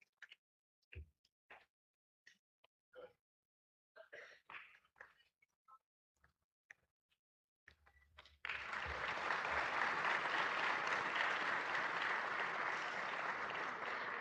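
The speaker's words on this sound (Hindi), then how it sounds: "कृपया जोरदार तालियों से स्वागत कीजिए NWR और WCR के जनरल" Audience at a railway shield award ceremony breaking into loud sustained applause after a stretch of quiet with scattered coughs and throat clearing, the clapping filling the hall until the end.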